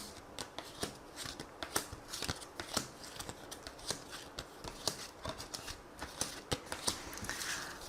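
Tarot cards shuffled and drawn by hand, a steady run of soft riffling flicks and sharp card snaps, close and fairly quiet, with no talking.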